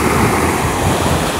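Sea waves breaking on an Azov Sea beach at sunset, a loud continuous roar of surf with a rushing wash, close and unbroken, with no talking.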